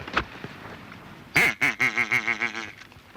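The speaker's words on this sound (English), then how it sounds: "We might pull a duck or two in" Ducks near a set of decoys quack loudly in a close run of about eight nasal calls, preceded by a faint earlier call, with open countryside quiet around them.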